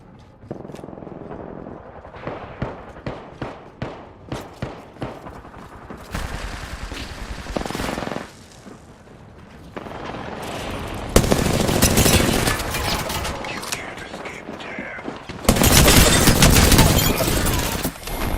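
Rapid bursts of video game gunfire during a grinding session in a cannon event, with sharp repeated shots early on, then dense sustained automatic fire and loud fusillades toward the end.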